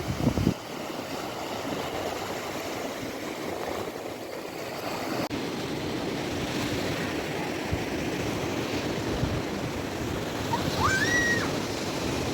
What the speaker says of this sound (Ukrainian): Так, доставляю вам моречко прямо вам у смартфон.